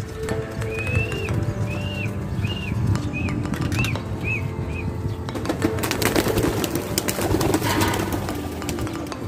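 Pigeons being released call in a run of short rising coos, then burst into loud flapping wingbeats that build into a rushing flurry of takeoff nearby.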